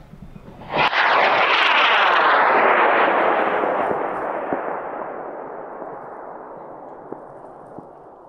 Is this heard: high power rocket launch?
yes